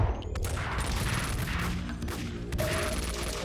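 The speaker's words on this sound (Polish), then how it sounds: "Dobra, ale ciągle ktoś strzela" Bursts of gunfire in the shooter game Max Payne 2, with several sharp shots cracking through a dense, continuous fusillade over a busy background of game noise.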